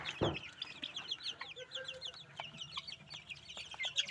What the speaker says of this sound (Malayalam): കോഴി ചാരക്കോഴികളുണ്ട്,